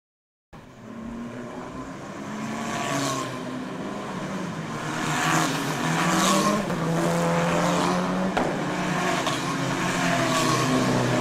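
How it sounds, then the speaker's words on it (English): Race cars at the Bangsaen Grand Prix street circuit pull onto the track, engines droning and rising in pitch as several cars pass, loud and continuous after a short silent start, with no talk. "The cars will make their way onto the circuit."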